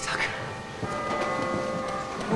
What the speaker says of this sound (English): What's wrong with the bells?